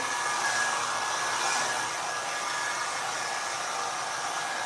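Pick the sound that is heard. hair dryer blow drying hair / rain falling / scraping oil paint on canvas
hair dryer blow drying hair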